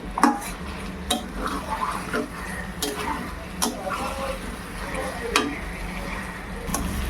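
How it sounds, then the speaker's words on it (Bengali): Mutton being fried with spices in a pan over high flame, a continuous sizzle punctuated by repeated sharp clinks and scrapes of a spoon stirring against the pan. "মশলার সাথে মাটনটা কষিয়ে নেব।"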